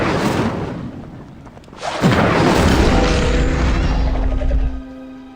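An Incendio fire spell in the Hogwarts Legacy video game erupts midway, a sudden whooshing burst of flame that swells into a loud roaring rumble and crackle, sustained for a few seconds before fading.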